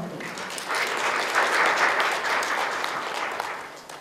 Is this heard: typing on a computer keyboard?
no